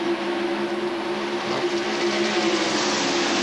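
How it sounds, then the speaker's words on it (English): A field of NASCAR stock cars roars past at high speed at the 1993 Winston 500, a dense, steady engine drone that stays loud and continuous throughout with no talking. "And the field goes by quickly to his right"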